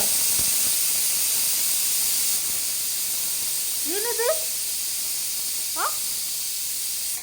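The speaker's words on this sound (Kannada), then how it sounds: "ಆ ಕುಕ್ಕರ್ ವಿಜಿಲ್ ಹಾಕಕತ್ತೈತಿ" A kitchen pressure cooker whistle releases steam as a steady, loud hiss running through the whole stretch, with a few brief chirpy sounds and a short spoken question partway through.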